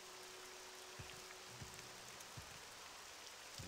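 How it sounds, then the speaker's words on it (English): Steady rain falls in the video game OpenMW, a Morrowind engine: a faint, even hiss of drops on surfaces runs throughout, with a few soft low thumps under it. "I love how the rain just behaves exactly like it does in the original game"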